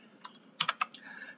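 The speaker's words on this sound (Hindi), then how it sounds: "Ctrl+D करके आप बटन दबाओगे" A handful of computer keyboard key presses, as when pressing Ctrl+D to bookmark a page in Chrome: a faint tap, then a tight cluster of three or four sharper clicks, close and quiet with no voice.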